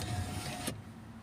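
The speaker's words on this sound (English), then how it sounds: "There's another car." A car passes on a dark road at night, a short, fairly close whoosh that cuts off abruptly partway through, leaving quiet.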